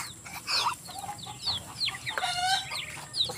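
Farm fowl cluck and chirp busily while being fed, a steady stream of short calls close by with a brief drawn-out squawk midway.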